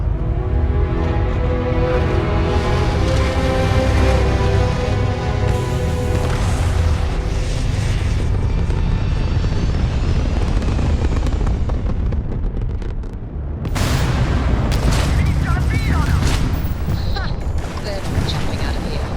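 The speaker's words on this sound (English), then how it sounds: "Firing." Space combat in Starfield, with continuous loud booming blasts and rumbling explosions layered over steady weapon fire and engine drone, dense and sustained throughout, with a brief dip before resuming.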